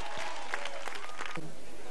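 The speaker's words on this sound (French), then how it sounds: "On les applaudit." Applause from the audience at a village gathering in Yelebougou, a dense wash of clapping with voices talking and calling over it throughout.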